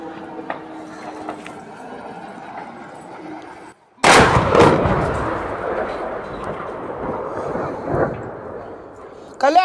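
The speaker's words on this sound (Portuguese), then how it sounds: "dá para ver algumas explosões secundárias antes do segundo drone atingir o lugar ali" Quiet background gives way to a sudden loud blast from a drone strike in the war in Ukraine, followed by sustained rumbling and crackling, with a few further sharp bangs from secondary explosions.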